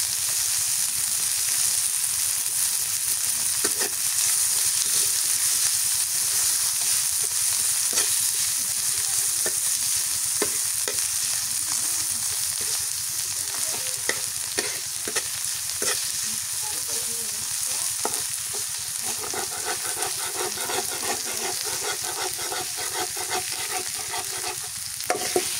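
Onions frying in mustard oil give a loud, continuous sizzle close by, with a spoon scraping and stirring through the pan throughout.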